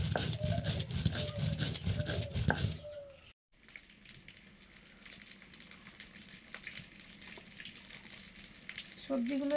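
Fish frying in oil in a Bengali home kitchen, a steady dense crackle that briefly drops out and then goes on more quietly, with faint clinks and other kitchen noises mixed in.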